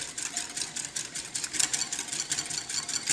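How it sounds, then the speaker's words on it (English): Egg yolks are whisked briskly in a bowl, a fast, even rhythm of light scraping clicks that stays at a moderate level throughout. "as we whisk it more, we're going to notice our egg yolks turn a little pale."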